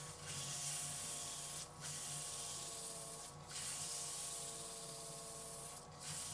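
Sandpaper at 600 grit rubbing a spinning cherry wood bowl on a lathe: a steady, loud, hissing abrasive rush over the lathe's motor hum, dipping briefly three times as the paper lifts off.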